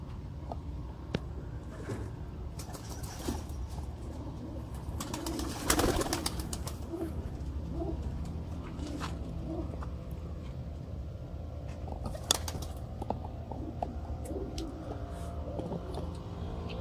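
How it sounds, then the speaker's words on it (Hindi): Kalsira pigeons with black tails coo softly in an outdoor loft, under a steady hum of background noise, with occasional faint clicks and one louder knock near the middle. "कलसीरा कबूतर काली पूछ वाला"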